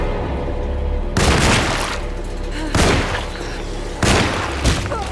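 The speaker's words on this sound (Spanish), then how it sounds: "Le pego un tiro a ver qué pasa." Gunshots in the Alone in the Dark Remake video game: three loud, sharp blasts spaced about a second and a half apart, each ringing out briefly over a low ambient hum.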